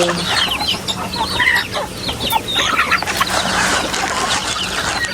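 A flock of farm chickens clucking busily in the morning, a dense and lively chorus of overlapping clucks and squawks heard close by, with no talking.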